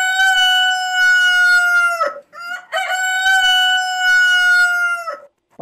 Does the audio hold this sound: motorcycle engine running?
no